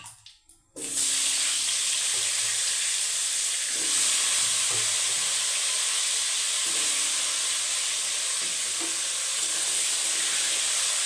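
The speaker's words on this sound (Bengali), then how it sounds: "ওই তেলে আলুটা ভেজে নেবো" Potatoes dropped into hot oil and frying, a sudden loud hiss that swells after a brief quiet start and then holds as a dense, even sizzle with faint stirring knocks.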